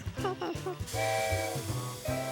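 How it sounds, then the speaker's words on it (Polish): In a cartoon, a small white toy boat puffs out steam, giving a short whistling, hooting tone with a breathy hiss, close and fairly quiet, alongside some brief animated voices. "Tu leci para."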